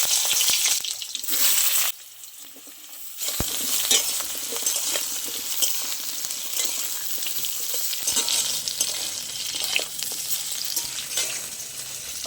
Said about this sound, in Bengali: তেলটা গরম হয়ে গেছে, আমি পটলে কিছু না দিয়ে ভেজে নেব।